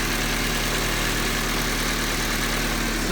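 A truck engine idles while still cold, a steady, loud, close rumble with constant low vibration and no break, alone without any voices.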